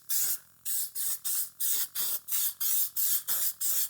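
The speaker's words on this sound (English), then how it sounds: "So we're just gonna spray a thin layer on the bottom." Spray adhesive hisses from an aerosol can onto the seat pan of a Yamaha TRI-Z 250 in about ten short, even bursts, close and crisp, with no talking.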